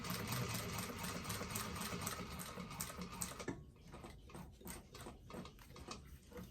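A sewing machine runs a steady stitch along a bifold wallet seam, a continuous close mechanical whir that breaks into a slower, pulsing rhythm of individual stitches toward the end.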